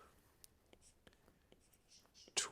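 Faint pen strokes scratch out a fraction in short, quick marks and taps, ending in a brief louder scrape, in a quiet room.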